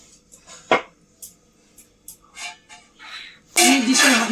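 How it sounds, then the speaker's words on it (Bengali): Rice being served onto a plate in a home kitchen, with scattered sharp clinks and clatters of dishes and utensils, some soft scraping, and a louder burst of clatter at the end. "চলো আমি ভাত বেড়ে নিই।"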